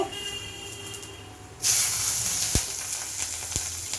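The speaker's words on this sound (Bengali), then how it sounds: "এই যে তেলের মধ্যে জিরে ফোড়ন দিলাম, তেজপাতা দিলাম, গরম মশলা দিলাম।" Cumin seeds, bay leaf and garam masala hit hot oil with a sudden loud sizzle that keeps hissing steadily, with a couple of soft knocks partway through.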